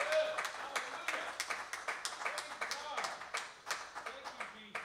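A congregation at a Father's Day Sunday service claps in a loose, uneven rhythm, individual hand claps distinct and moderately near, with voices murmuring underneath.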